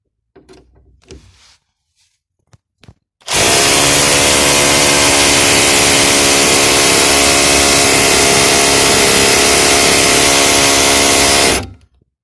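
A power drill bores out rivets holding the window regulator inside a BMW E36 convertible. After a few faint knocks, a loud, harsh, continuous grinding whine runs for about eight seconds close up, then cuts off abruptly.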